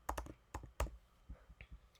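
Quiet keystrokes on a computer keyboard come in short uneven bursts of clicks, close by and soft, with no voice over them.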